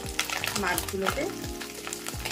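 Tiny kachki fish fry in a pan of oil with a dense, close sizzle. Utensil scrapes and stirring knocks recur throughout.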